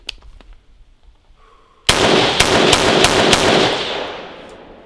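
A rifle fed from a 20-round Hexmag magazine during a torture test: after a faint, quiet start, a sudden loud string of rapid shots rings out, then tails off into echo.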